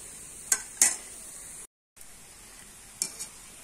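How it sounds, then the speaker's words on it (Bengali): Raw mango fritters frying in oil make a faint, soft bubbling sizzle, broken by a few sharp clinks and stirring scrapes, with a short silent gap in the middle. "আমি এইভাবে উল্টে পাল্টে ভেজে নেব।"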